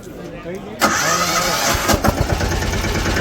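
A small farm vehicle engine cranks and catches after a short pause, then runs at a rough, loud idle with chugging pulses, while a voice talks nearby.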